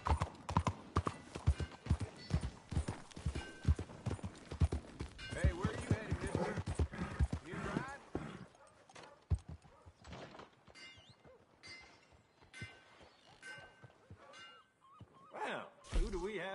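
Horse hooves clip-clop steadily in Red Dead Redemption 2, a brisk rhythmic trot of close, loud hoofbeats that slows and thins out partway through. Scattered game voices are heard in the background.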